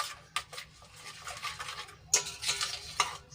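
Soap being stirred into a small amount of water to dissolve it for a homemade dishwashing liquid, with soft swishing and a few sharp clinks of a spoon against the container, close and fairly quiet.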